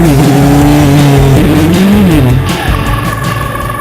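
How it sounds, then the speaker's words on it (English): A turbo race car engine roars loudly nearby on a track, its pitch rising and dropping through gear changes as it drives past. "Driving a turbo car is difficult."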